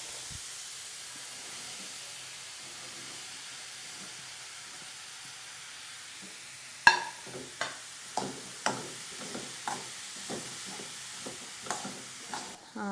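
Lentils are stirred into a ground thoran masala in a pan. A quiet steady hiss of cooking runs throughout, then a spatula scrapes the pan in even, distinct strokes about every half second.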